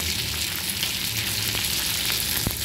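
A spoonful of tomato sauce goes into a hot pan over high flame for chilli chicken, and a steady, loud, close sizzle of frying follows, with a few sharp pops near the end.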